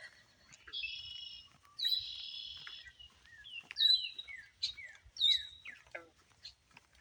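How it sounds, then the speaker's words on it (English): Several birds chirp and whistle nearby beside a pond, with sustained high trills and repeated descending sweeps, no talking. "I'm really enjoying these birds"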